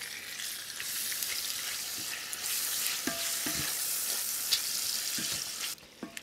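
Shrimp sautéing in a pan with lemon and garlic, a steady close sizzle with scattered ticks and pops, a few sharper clicks near the end as the spitting eases.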